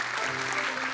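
A studio audience at a televised children's Quran memorisation show claps in a brief, dense burst of applause.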